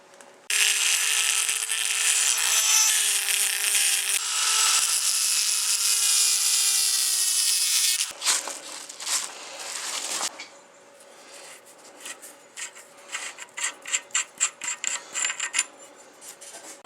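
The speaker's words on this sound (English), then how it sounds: "we just need to cut this little weld off here so that the muzzle nut will come off." A power tool grinds through a small weld on an AK pistol's muzzle thread protector, a loud steady whine for about eight seconds, then a pause followed by shorter bursts of cutting and scraping.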